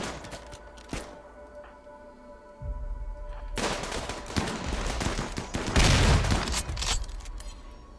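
A full gunfire volley from a group of shooters in the video game RimWorld, with a single sharp shot, then a loud burst of overlapping rapid gunfire that swells and carries on for several seconds before cutting off.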